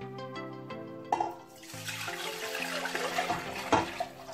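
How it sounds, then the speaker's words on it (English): Coconut milk is poured into a cooking pot for coconut rice, a close liquid splashing and gurgling that builds over several seconds, with musical tones running underneath. "we pour our coconut milk into the pot"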